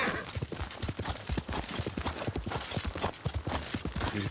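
Steady clip-clop of horse hooves at a brisk trot in the video game Ghost of Tsushima, a continuous rhythmic patter of hoofbeats over a faint background wash, with no talking.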